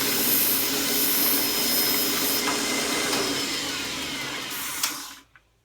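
Homemade 2x72 belt sander running with a loud, steady whooshing roar while old silicone is rubbed against the belt to clean it, then the motor cuts off and winds down abruptly at the end.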